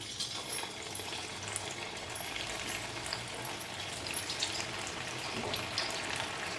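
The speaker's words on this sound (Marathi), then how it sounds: "मिडियम फ्लेमवर आपण ही बाटी जी आहे ते आपण तळून घेऊ" Dal batti frying in hot oil over a medium flame, a steady dense sizzle and crackle with no talking.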